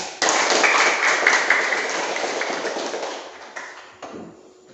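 Classroom of students applauding together for three discussion groups, a dense burst of many hands clapping that holds steady and then gradually thins and fades toward the end.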